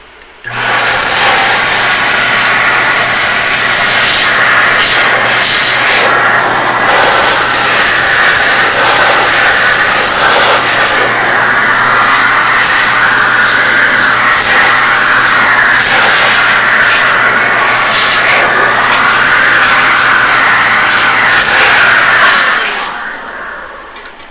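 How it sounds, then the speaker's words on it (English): Compressed air duster can blasting dust out of a cryptocurrency mining machine's power supply: a loud, continuous hissing rush lasting over twenty seconds, close and unbroken before cutting off. "We're just going to use our air duster can here, and we're going to blast all the dust out."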